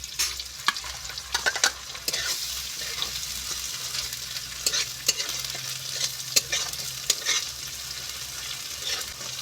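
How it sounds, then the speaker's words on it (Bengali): Mustard and cumin paste being stir-fried with salt, turmeric and chili for a potato fish curry: steady sizzling in a pan, stirred with intermittent scraping taps, close and continuous with no talking. "এইভাবে ভালো করে আমি কষিয়ে নেব।"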